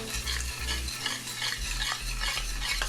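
Seasoning with curry powder being stirred into tomato paste and oil in a pan already slick with leftover fish oil, a steady close frying hiss with repeated scraping stirs and low thumps throughout.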